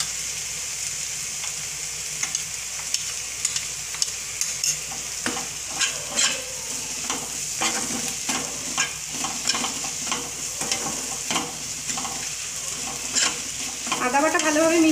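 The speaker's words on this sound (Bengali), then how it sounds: "আদা বাটা ভালোভাবে মিশিয়ে নিয়ে" Ginger paste being stirred into onion masala fried with spring onion greens for an egg curry: a constant sizzle under a quick run of spatula scrapes and taps against the pan, close and fairly loud.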